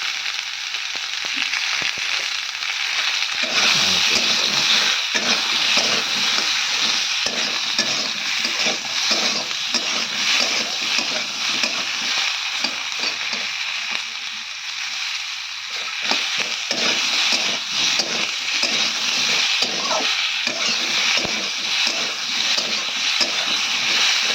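Eggplant pieces frying in oil with salt and turmeric: a loud, continuous sizzle fills the whole stretch, dotted with frequent small crackles and occasional scrapes of stirring in the pan, no one speaking.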